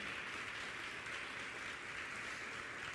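Steady, dense clapping from a large church congregation, continuous and even throughout, somewhat distant and washed out.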